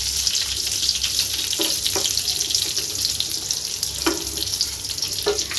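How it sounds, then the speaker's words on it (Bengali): Eggplant frying in hot oil, a steady loud sizzle and crackle running continuously, with a few light clicks and clinks from the pan or utensils. "তেলে একটু বেগুন দিয়ে দিচ্ছি, বেগুন দিয়ে ভাজতেছি"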